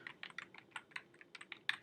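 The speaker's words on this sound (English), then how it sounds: "Having some trouble typing." Rapid, uneven keystrokes clatter on a computer keyboard while someone types into a new online document, with quiet, close clicks and no speech.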